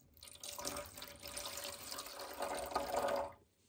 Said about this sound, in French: on va mettre le produit détartrant jusqu'à une petite ligne qui est écrite dessus